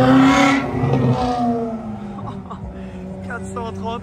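A Ferrari 430 with an aftermarket exhaust revs its engine nearby in Beverly Hills, a loud, throaty rising and falling note that holds steady throughout, with someone talking over it.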